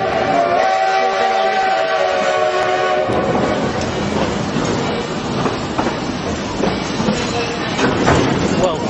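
Durango and Silverton steam train at a railfest, its whistle sounding in a long blast before giving way to steady rolling wagon clatter and rumble, loud and close, with people talking faintly underneath.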